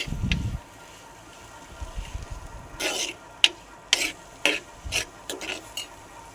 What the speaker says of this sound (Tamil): சால்ட்டு கொஞ்சம் ஆட் பண்ணிக்கலாம். இது நல்லா வதங்கட்டும்